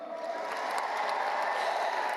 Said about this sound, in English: Let's get her back out here with a big round of applause.